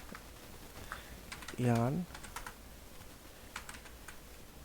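Keys clatter softly on a computer keyboard as a command is typed, a few scattered light taps and short bursts, with someone speaking briefly between them.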